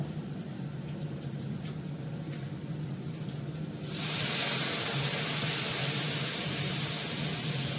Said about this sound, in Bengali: এবার এটা জল দিয়ে দেবো।